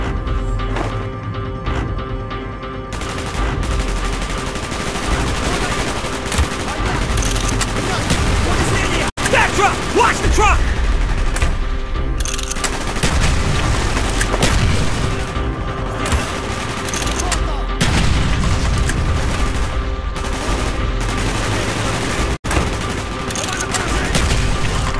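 Gunfire in the video game Call of Duty Black Ops: dense, continuous bursts of automatic weapons and single shots, with booming impacts, loud throughout, while soldiers shout over the battle.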